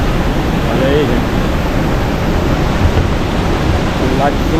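Small waterfall at Salto de Corumbá, a steady, dense rush of falling water that fills the scene evenly and loudly from start to finish, with faint voices in the background.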